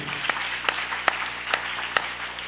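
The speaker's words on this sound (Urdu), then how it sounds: "زوردار تالیاں" At a felicitation event in Aurangabad, India, an audience claps in a brief, evenly spaced rhythm of sharp beats over a steady hall hum.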